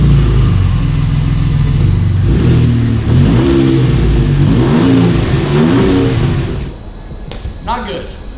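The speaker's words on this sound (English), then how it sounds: "So this is what the Raptor sounds like completely stock." A stock Ford F150 Raptor with the EcoBoost V6 and factory exhaust revs up and down several times, loud and close, then drops to a lower idle before a final short blip.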